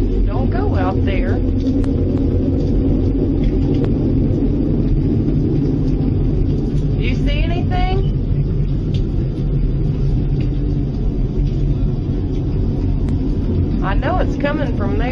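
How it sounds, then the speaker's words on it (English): Strong wind roars in a steady, loud, low rumble that never lets up, with agitated voices calling out over it. "I hear the wind"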